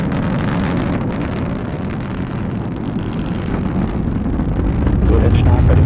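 Rocket engine roaring at full thrust during launch ascent, a broad, continuous low rumble with wind buffeting that swells louder toward the end.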